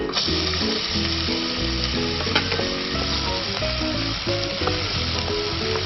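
Garlic and about half an onion fry in olive oil for crab risotto, a loud, close, continuous sizzle broken by the scrape and clink of stirring, with no voices.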